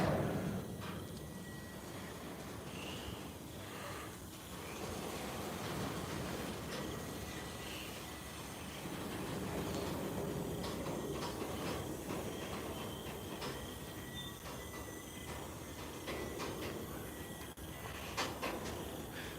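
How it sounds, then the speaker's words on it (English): An Amtrak train starts to move nearby, rumbling with rhythmic clicking of wheels over rail joints and occasional metallic squeals, a steady loud rolling noise throughout. "this train finally moves"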